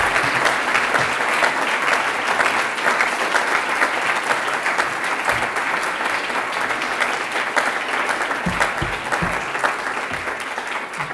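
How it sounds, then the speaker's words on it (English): An audience at an academic-year inauguration ceremony bursts into steady, sustained applause. Dense, even clapping fills the hall for over ten seconds with no talking over it. "give a big round of applause to Aliosha Bits"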